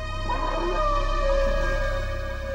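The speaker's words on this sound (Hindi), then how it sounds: "आपने कुत्तों के रोने की आवाज सुनी?" Dogs whimper and cry at night in a domestic household scene, a thin wavering whine rising and falling over a steady low hum, fairly close and with no talk.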